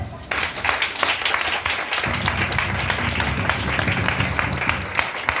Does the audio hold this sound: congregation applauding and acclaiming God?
yes